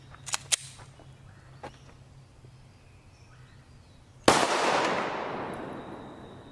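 A sharp, loud gunshot from Fort Scott munitions fired at a ballistic helmet rings out and decays into a long echo, following a few small clicks and taps from the shooter's setup.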